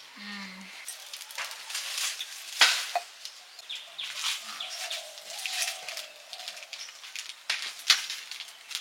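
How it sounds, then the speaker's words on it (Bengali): Whole biryani spices frying in a pan at home, a soft sizzle and occasional stirring scrapes running steadily, with sharper clinks and background household noise around it. "প্রথমেই বিরিয়ানি গোটা মশলাগুলো ভেজে নিচ্ছি"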